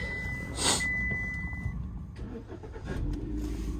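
A car engine starting up, with a brief high electronic tone followed by the low, steady rumble of the idling motor close by, without any talk.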